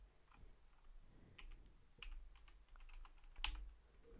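Typing on a computer keyboard: close, irregular key clicks in quick bursts, with a sharper, louder keystroke near the end and no voices.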